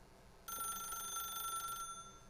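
A telephone rings in the video game The Stanley Parable, one bright trilling electronic ring that starts abruptly and lasts a little over a second before cutting off, fairly clear over a quiet background.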